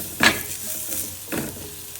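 Onions with grated coconut and turmeric frying lightly in a pan for a spicy Mangalore-style chicken curry, with two brief scraping stirs over a soft, steady sizzle.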